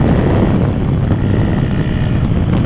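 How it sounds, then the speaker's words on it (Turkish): A motorcycle's exhaust roars loudly and steadily while riding at speed, its engine worn from a failing cylinder and piston and low on oil, with a dense low rumble and heavy wind buffeting. "O değil de egzoz çok fena bağırıyor ya"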